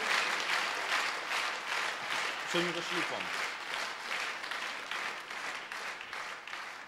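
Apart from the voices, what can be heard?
congregation applauding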